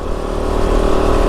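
A Kove 450 Rally dual sport motorcycle is ridden at speed, its engine a loud, steady, close drone with no pauses.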